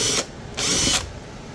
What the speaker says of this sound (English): I'm just going to drill my